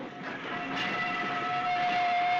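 Train rolling along steadily, a continuous rumble with a sustained tonal whine, close and building slightly in loudness, with no talk.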